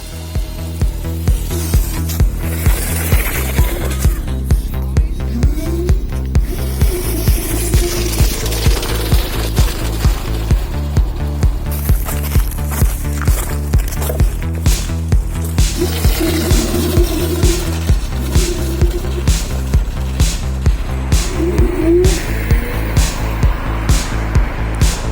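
A homemade trike built from a hoverboard rides along, giving a steady rhythmic clatter of regular pulses over a low motor hum, with rattling and scraping on top throughout.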